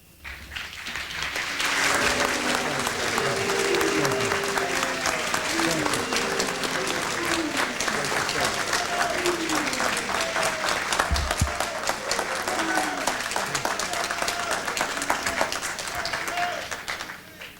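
A 1996 South Central Los Angeles audience applauds CIA Director John Deutch with a loud, steady wash of clapping lasting well over fifteen seconds, while voices and calls rise through the crowd.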